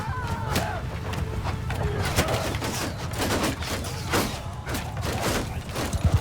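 Sturgian archers loose a volley during a Mount & Blade II: Bannerlord battle: a rapid scatter of sharp clacks and thuds, moderately loud, repeating over a continuous low battlefield rumble.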